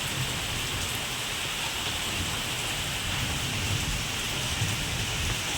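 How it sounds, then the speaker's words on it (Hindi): Heavy rain pouring down at Katra near Vaishno Devi, a dense, constant hiss of downpour with no breaks, loud and enveloping throughout. "देखिए कितनी ज़ोर की बारिश इस टाइम श्री माता वैष्णो देवी कटरा के अंदर देखने को मिल रही है।"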